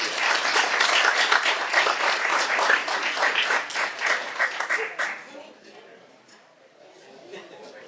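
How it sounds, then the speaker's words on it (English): Audience applause at a school board meeting, brisk and dense for about five seconds, then fading quickly to quiet room noise and faint talking. "One more round of applause."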